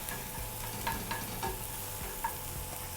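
Red onion cooking in a pan for baby vegetable soup, a low continuous frying hiss with a few soft clinks and scrapes of stirring, fairly quiet and close.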